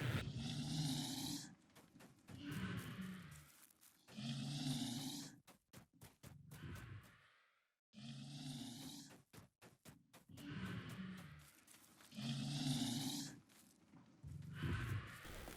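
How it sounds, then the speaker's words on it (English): A monster in the game DDO snores in slow, heavy cycles, each long rasping inhale followed by a pause, repeating steadily and moderately loud in a quiet space. "if you listen carefully, you can hear snoring"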